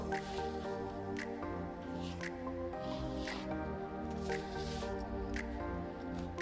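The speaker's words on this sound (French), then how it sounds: "Donc je prends un petit vaporisateur d'eau." A small spray bottle of water mists glitter onto a handmade ink Christmas card, giving about six short, crisp spritzes roughly once a second over steady background music.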